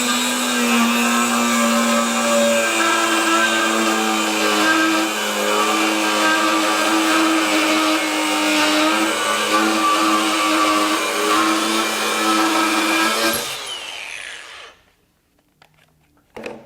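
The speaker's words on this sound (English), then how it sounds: "I'm going to go ahead and make a couple of cuts just freehand" A DeWalt FlexVolt DCG416 angle grinder making freehand cuts whines loudly and steadily at high speed, then the motor shuts off and spins down into near silence, followed by a brief clatter.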